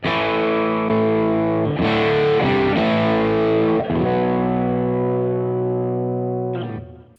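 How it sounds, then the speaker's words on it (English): An electric guitar through a Kernom MOHO fuzz pedal set to a vintage fuzz tone plays sustained, thick, saturated chords for about seven seconds, changing a few times before fading out at the end, with no talking. "So we've got that vintage fuzz tone."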